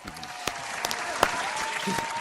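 A brief burst of applause during a live crypto talk show, a steady wash of clapping with a few sharper claps standing out, moderately loud and continuous across the moment.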